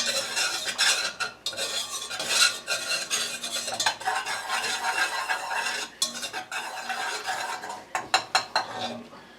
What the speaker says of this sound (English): we're going to whisk this together to make it less chance of